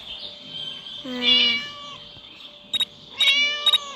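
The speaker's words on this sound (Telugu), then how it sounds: "ఈ పిల్లి సౌండ్ మాత్రం మియావ్ మియావ్ అంటేనే ఉంది" Cat meowing in the Scary Teacher video game: a long drawn-out meow near the middle, then a few short, sharp meows close together toward the end, all fairly close over quiet game background.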